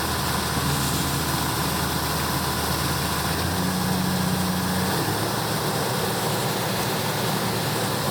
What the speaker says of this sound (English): When the bunker is full, combine stops and tractor comes and